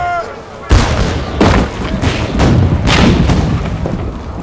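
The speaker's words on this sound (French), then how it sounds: "Pointez vos canons sur ces fichus tours!" Cannon fire during the storming of the Bastille: heavy booms burst out repeatedly over a loud, rumbling battle din, with shouting voices mixed in.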